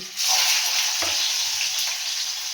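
Tomato dropped into hot oil with black cumin seeds in a pan gives a sudden, steady loud sizzle and fry with a little stirring, close and alone without talk.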